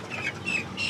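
Egg-laying hens in a poultry shed cluck in three short, close bursts, fairly soft against a quiet background.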